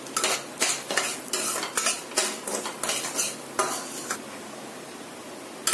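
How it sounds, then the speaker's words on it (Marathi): Rice grains roasting in a little oil in a pan for egg curry, with a steady sizzle broken by repeated scraping bursts from stirring, close and fairly loud. "बघा टाकल्यावर असे फुरफुरले पाहिजे तांदूळ, म्हणजे लवकर भाजून येते।"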